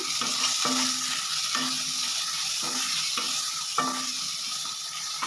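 A spoon stirs salt and turmeric into a tomato mixture frying in a pan, giving a steady sizzle with regular scraping strokes about once a second, close and clear, no talk.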